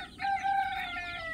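A native desi hen clucks and calls close by among her chicks, one drawn-out, tonal vocalization lasting over a second, fairly loud with no talking.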